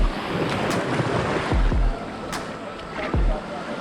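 Waves wash onto a sandy beach near the lighthouse on Pelee Island in Lake Erie, with a steady surf rush, a few low thumps of breaking water and gusty wind buffeting the microphone.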